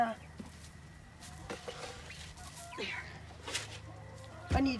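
American Bresse chicks squawk faintly in short, scattered bursts over a low background hum, with a louder burst near the end.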